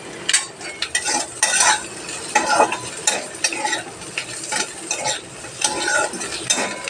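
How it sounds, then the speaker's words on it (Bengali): Potatoes added on top of onions and stirred in a frying pan over low gas, with steady oil sizzling under repeated scraping and clinking of a spatula against the pan, close and moderately loud. "এবার আমি পেঁয়াজের উপরে আলুটা দিয়ে দিচ্ছি।"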